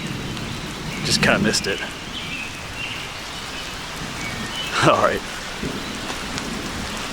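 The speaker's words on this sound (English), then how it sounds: "There's still some rain falling, well, some water falling from the trees here." Water drips and patters from trees after rain in a wooded Pennsylvania state park, with scattered soft drops, a couple of louder splashes and rustles, and someone speaking briefly.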